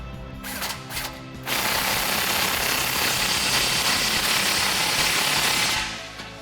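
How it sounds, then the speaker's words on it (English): A loud, steady mechanical clatter of a ratchet with a 17mm socket tightening a stainless steel exhaust clamp on a Toyota Tacoma, running continuously for several seconds after a few brief clicks, close up. "we'll take a 17mm socket to tighten this down"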